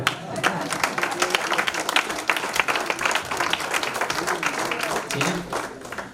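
Church congregation clapping for the Lord during a sermon on marriage, a continuous crowded patter of hands, fairly loud and close, with a few scattered voices underneath.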